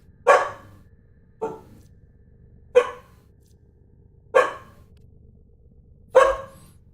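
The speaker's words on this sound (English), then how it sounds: "hurts my brain when she barks like that." A dog barks five times, sharp and fairly close, with gaps of over a second between each yelp in an otherwise quiet room.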